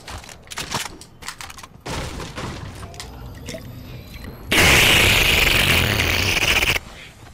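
Gunfire in the video game Fortnite: scattered sharp shots at first, then a loud, dense burst of sustained firing that runs for about two seconds before cutting off abruptly.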